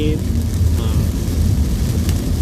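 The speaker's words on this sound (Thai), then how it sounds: "ตอนนี้ฝนตกหนักครับผม" Heavy rain pours steadily on a moving car, a dense continuous wash of noise with road rumble inside the cabin, loud and unbroken throughout.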